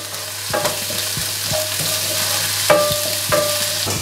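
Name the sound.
spices frying in oil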